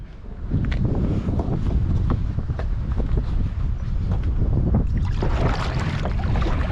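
Strong coastal wind while kayak fishing at Newport Beach buffets the microphone in a constant roaring rumble, with gusty crackles and flutters throughout and no speech.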